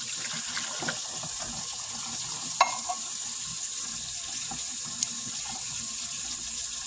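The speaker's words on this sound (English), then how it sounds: "fill those cans of condensed soup with some water, some nice hot water" Steady running hot water pours into cans of condensed soup, a continuous hiss with a couple of faint clinks and no talking.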